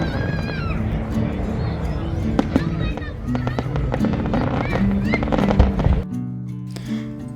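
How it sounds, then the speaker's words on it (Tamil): Fireworks over JBR beach in Dubai crackle and pop in rapid, dense bursts with sharp bangs, close and loud, while crowd voices murmur underneath. "இப்போ ஃபயர் ஒர்க்ஸை நம்ம இங்கே பார்க்குறோம்."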